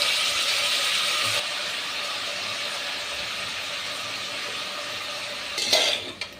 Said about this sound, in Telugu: ఇంకా మొత్తాన్ని వంకాయ కర్రీ మొత్తాన్ని కలుపుతున్నాను